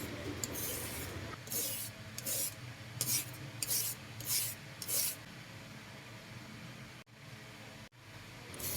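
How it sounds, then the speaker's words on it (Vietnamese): A peeler shreds white daikon radish into strips, producing repeated rasping scrapes in short bursts of about half a second each, close and fairly quiet, followed by a pause with a couple of soft knocks. "Rồi củ cải trắng này mình cũng bào sợi giống cà rốt và đu đủ luôn."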